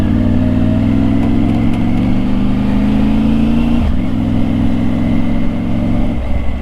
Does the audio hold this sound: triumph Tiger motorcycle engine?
yes